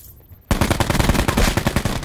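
Rapid automatic fire from a new submachine gun in the shooter game Black Ops 4: after a brief quiet moment, a loud, close, continuous burst of evenly spaced shots rattles on to the end.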